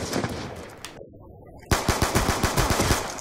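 Rapid bursts of pistol fire from Black Ops 2 gameplay, likely a Five-Seven fired from the hip, crackle loudly and rhythmically, break off into a brief lull, then resume as a dense run of close, sharp shots.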